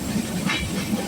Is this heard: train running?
yes